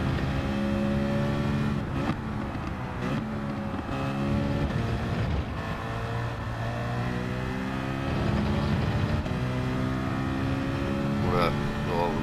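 A race car engine in a racing game at Watkins Glen long course, a loud steady drone with rising and falling gear changes and revs, heard close with a voice talking over it.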